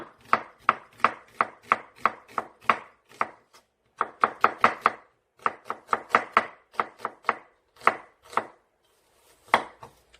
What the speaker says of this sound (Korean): 양파 반개 이렇게 꽁지를 따시고 이렇게 얇게 채를 썰어 주세요